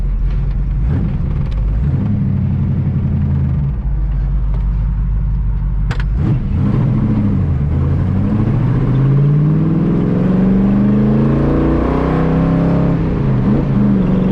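A Daytona Coupe engine held at about half throttle, a loud, close, rumbling drone that swells and rises in pitch over several seconds, with a sharp knock partway through and no talking.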